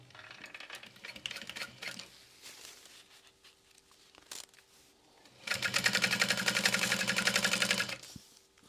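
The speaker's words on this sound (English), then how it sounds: "And then we're going to top stitch." A sewing machine top stitches a bag in short bursts, with a brief whir early on, pauses and small clicks, then a louder steady stretch of rapid needle chatter lasting about three seconds.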